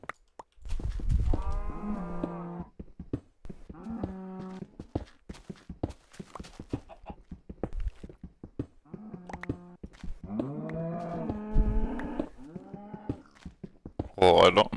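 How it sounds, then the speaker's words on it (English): Several long, drawn-out Minecraft cow moos in a row, fairly close and loud, with clicks and shuffling sounds between them. "I'm not sure if I like the sound of cows."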